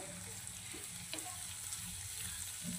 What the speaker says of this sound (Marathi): तेल निघेपर्यंत आपल्याला मसाला छान परतून घ्यायचा आहे.